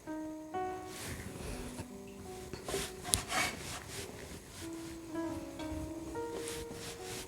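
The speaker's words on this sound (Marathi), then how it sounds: "नंतर थोडं पोळपाटावर टाकून असं लांब दोरी बनवून घ्यायची" Steamed flour dough for shengole rolled into long ropes on a wooden rolling board, soft repeated rubbing strokes, quiet and close, with faint background music and no talking.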